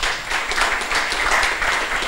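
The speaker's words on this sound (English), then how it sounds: "One round of applause for him." An audience at a JavaScript meetup claps in steady applause. The sound is moderately loud and fills the whole short moment without any voices.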